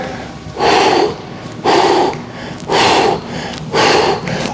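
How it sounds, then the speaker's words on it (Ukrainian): Four loud, forceful exhales during mountain climber cardio exercise, each a sharp, breathy rush of air lasting about half a second, spaced evenly about a second apart. "Видих повітря з живота."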